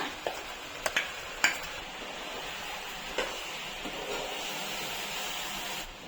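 Ground masala fries with lentils and vegetables in a pan for sprouted field bean sambar, giving a steady soft sizzle broken by a few sharp clicks of a spoon stirring against the pan.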